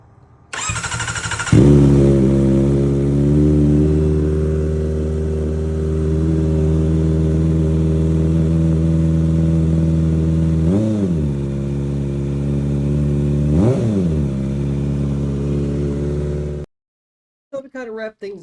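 A 2024 Kawasaki ZX4R with a Yoshimura AT2 slip-on exhaust fires up from cold, settling into a loud, steady high idle with two quick throttle blips before cutting off abruptly.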